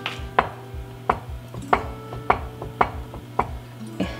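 A fork presses down repeatedly to seal a puff pastry lid onto a beef mince pie, giving seven or eight crisp taps against the dish at a steady rhythm, about one every half second, close and fairly loud, with no talking.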